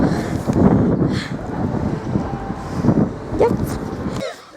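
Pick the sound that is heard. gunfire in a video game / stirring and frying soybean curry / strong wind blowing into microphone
strong wind blowing into microphone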